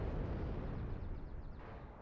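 A Panzer IV tank exploding in the IL-2 Tank Crew video game, heard as a faint, distant, low rumbling blast that rolls on for about two seconds.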